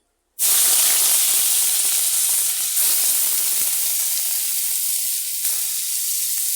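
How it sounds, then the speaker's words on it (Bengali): Onions sizzle and hiss steadily in hot oil for a kitchen curry of jackfruit, a loud, continuous frying crackle beginning abruptly and holding with no voices. "এখন কিছু এগুলি সব ছেড়ে দিচ্ছি পেঁয়াজ"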